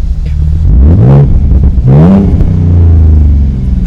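A V6 Ford Mustang engine revs loud and close in two rising bursts, each climbing in pitch and dropping back, then settles into a steady deep idle rumble with no talking over it.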